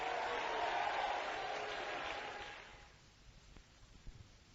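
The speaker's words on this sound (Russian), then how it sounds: "Дайте ему аплодисменты." A church congregation applauding: broad steady clapping for about two and a half seconds that fades into quiet room noise with a few faint knocks.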